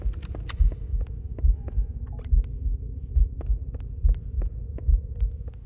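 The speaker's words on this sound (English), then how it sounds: "So sick of this heartbeat." Heartbeat sound effect in the video game Halo: Combat Evolved: a steady, loud, low thumping pulse repeating roughly every 0.8 seconds under a constant hum, with sharp game clicks scattered over it and no talking.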